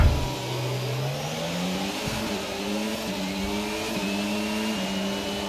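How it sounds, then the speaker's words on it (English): Several F1 car engines revving at a race start in a video game, high droning whines climbing through the revs together, steady and close with no voices. "it's time to start our engines"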